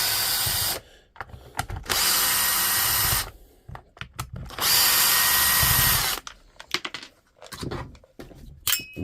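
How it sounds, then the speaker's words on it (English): A power drill backing screws out of a DeWalt DCH273 rotary hammer housing, loud close bursts of whirring motor separated by short clattering handling noises and clicks. "I could remove them with a little screwdriver, but I decided to go for something a bit more powerful."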